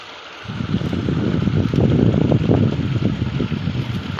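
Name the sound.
river water flowing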